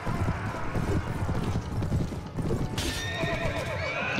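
Horses in a Mount & Blade Warband battle gallop with dense, continuous clip-clop hoofbeats, and a loud neigh breaks out near the end amid the noise of the fight.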